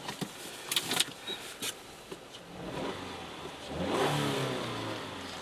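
A 2-litre Subaru Forester SH with a stock exhaust revs up from idle, rising into a louder, sustained engine roar near the end, with a few short clicks and knocks early on.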